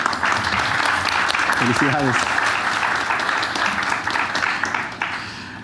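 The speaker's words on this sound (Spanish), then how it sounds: "Un aplauso," Audience applause fills a Honduran panel on electoral transparency, steady dense clapping throughout with a speaker's brief words over it, slowly tapering at the end.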